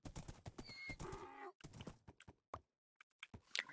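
Horse in the Minecraft video game, with quick clip-clop hoofbeats and a neigh heard in short bursts, near and fairly quiet, with no talking.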